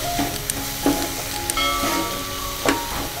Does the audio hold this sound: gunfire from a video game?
no